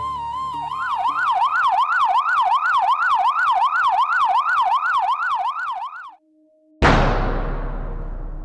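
A loud wailing siren rises and falls rapidly and repeatedly, cuts off abruptly, then a sharp noisy burst follows.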